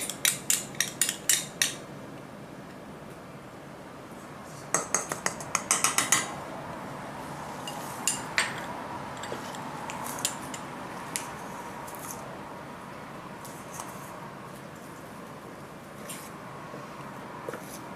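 Utensil clinking and scraping against a bowl while corn syrup is mixed into gingerbread icing, with bursts of rapid clatter early on, then sparser, fainter taps and scrapes.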